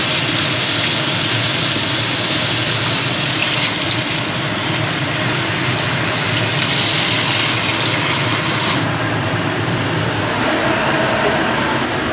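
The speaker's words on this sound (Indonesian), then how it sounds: "Ini tak siram pakai air panas ya Mbak Bu Besti" Loud, continuous gushing of hot water being poured, a steady rush that thins out and changes tone near the end.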